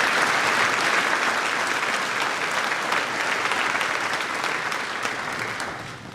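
A crowd applauds graduating seniors at a high school graduation ceremony, sustained dense clapping that fills the room and tapers slightly toward the end.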